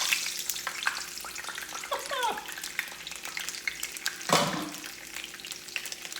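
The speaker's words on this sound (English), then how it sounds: "you see how it's sizzling?" Cheese fries in a hot pan, a close, continuous sizzle with crackling pops and a louder hiss burst midway as it is stirred.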